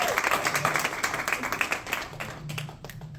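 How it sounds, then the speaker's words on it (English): An audience claps to welcome the next speaker onto the stage, dense steady applause that carries on throughout and eases off slightly toward the end, with a faint voice beneath it. "Applause, welcome for our next speaker, Rico Sharp."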